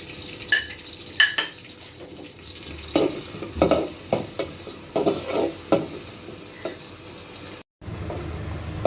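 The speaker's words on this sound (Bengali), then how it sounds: "বাদামি হওয়া পর্যন্ত আমরা ভাজতে থাকবো।" Onions and green chilies sizzle steadily as they fry until brown in a pan while a utensil scrapes and stirs in repeated strokes, close up, with a brief silent gap near the end.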